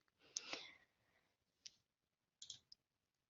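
Several sharp computer mouse clicks on icons in a Camtasia software library, spaced irregularly over a few seconds, close and fairly quiet, with a brief soft rustle near the start.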